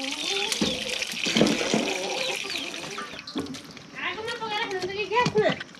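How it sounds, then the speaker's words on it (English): Vegetables being washed in water at a rural village home in Ilam, Nepal, with splashing and running water throughout and people talking over it, including a voice. "Okay, so we're going to wash the vegetables now."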